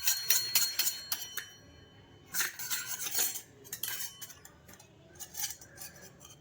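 A metal spoon clinks repeatedly against a container while stirring rose petal powder into milk, in quick irregular bursts of bright taps separated by brief pauses, close and alone.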